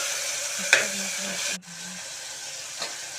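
Onions and tomatoes sauté in a pan for veg biryani, giving a brief steady sizzle with a sharp stirring scrape. The hiss cuts off abruptly, then quieter frying and a faint tap follow.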